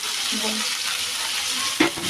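Potato, cauliflower and peas frying in a spice paste in a pan, with a steady close sizzle and a sharp stirring scrape near the end.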